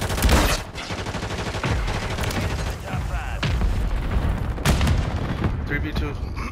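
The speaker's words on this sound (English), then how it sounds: "Precision airstrike. Hostile forces strike the area." Explosions from a precision airstrike in the Call of Duty Warzone video game on Rebirth Island: loud, close, rolling booms and blasts repeating through the clip, with a voice talking over the barrage.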